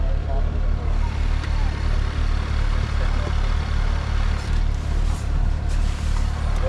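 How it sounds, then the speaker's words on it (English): A car engine idles steadily while warming up, a low continuous rumble with a regular pulse, close and fairly loud, with faint rustling over it. "Well, then I'm just warming the car up."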